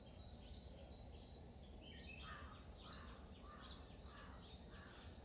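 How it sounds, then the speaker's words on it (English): Birds call and chirp in scattered bursts over a steady broadband hiss of outdoor ambience, fairly faint and distant, with no voices. "You hear the chirping of the birds,"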